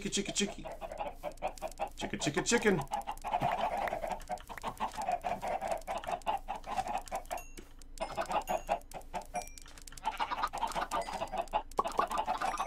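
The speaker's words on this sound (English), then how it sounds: "let's go feed the chickens" Chickens in a video game cluck and chatter in quick, repeated bursts, moderately loud and close, with a brief higher squawk early on and no talk.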